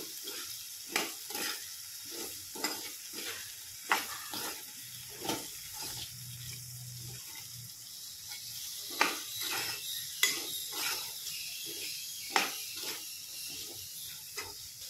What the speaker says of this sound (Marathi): आपण हे छान मिक्स करून घेऊ।